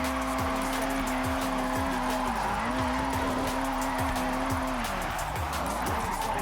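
A drift-tuned '95 Eclipse in the racing game Forza Horizon 6 slides uphill, its engine holding a steady droning pitch in one gear with a brief dip midway, under constant tire and road noise.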